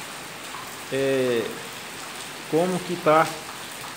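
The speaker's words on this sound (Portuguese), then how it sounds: "Tá bastante forte, né? Bastante grossa aqui, ó." Heavy rain falls in the Bahia backlands, a steady wash of drops on surfaces throughout, with someone talking briefly over it near the start and again toward the end.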